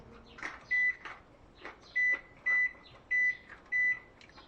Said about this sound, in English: That alarm you heard back there is a reminder of me to go practice.